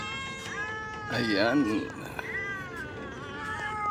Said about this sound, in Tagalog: magpakain tayo ngayon ng mga alagang pusa